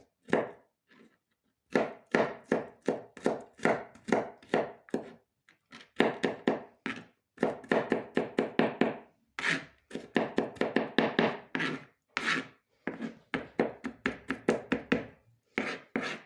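A knife chops garlic on a wooden board in quick, steady strokes, falling in dense rhythmic bursts with short pauses between runs, close and crisp.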